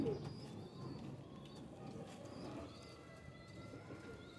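A domestic pigeon, a Ferozpuri or teddy cross with clipped wings, gives faint, low cooing calls at a distance, with soft chirps from other birds in a quiet outdoor setting.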